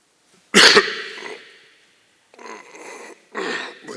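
A single loud, harsh cough bursts out close to the microphone during a city council meeting, followed by a couple of quieter raspy coughs or throat-clearing sounds after a short pause.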